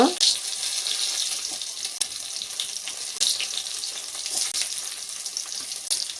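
Stuffed brinjals (gutti vankaya) sizzle and crackle steadily in hot oil, a dense hiss with brief louder pops as the eggplants settle into the pan.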